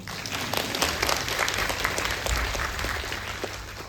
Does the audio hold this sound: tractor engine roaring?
no